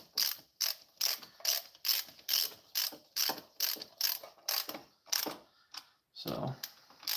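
Ford Performance cylinder head bolts on a Focus ST are tightened with a ratchet, giving a close, steady series of sharp clicking strokes with a few brief pauses and a clunk near the end.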